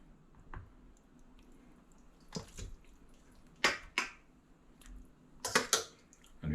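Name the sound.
removing greens from brined raw turkey legs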